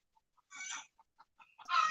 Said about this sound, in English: Damn, my chickens are loud.